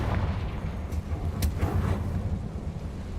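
A Confringo fire spell explodes in Hogwarts Legacy, a brief bright burst near the middle over a steady, dense low rumble of game sound.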